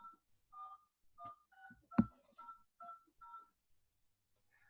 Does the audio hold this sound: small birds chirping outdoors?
no